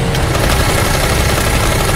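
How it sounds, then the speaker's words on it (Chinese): A remote-controlled motorcycle engine in an action film scene runs at a loud, steady, buzzing idle with a rough low rumble, continuous for a couple of seconds before cutting off abruptly. "女人操控手表，遥控来了屋外的摩托车"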